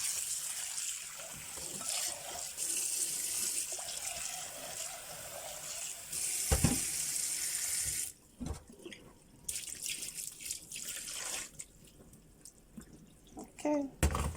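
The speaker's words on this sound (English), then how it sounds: "I will just add water here." Water runs from a tap into a pot with a splashing, hissing flow, stopping and starting a few times, with clinks and drips in the quieter gaps, while rice is washed for Nigerian jollof rice.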